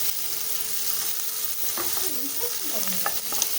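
Steady sizzling of tomato frying with onions in a pan, with some scraping and stirring sounds partway through.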